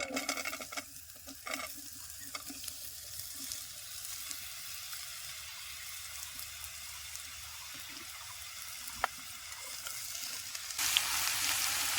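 Potatoes and eggplant fry in a pan with bay leaf, giving a steady close sizzle with stirring scrapes and a few sharp clicks, louder and brighter near the end.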